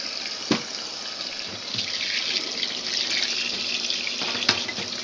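Water runs steadily and fairly loudly into a Simplicity twin-tub washer during a deep rinse, a continuous splashing rush with a couple of sharp clunks.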